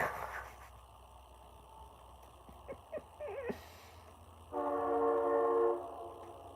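A train horn blows for about a second, loud and steady with layered harmonic tones, after brief squeaky noises over a low background rumble.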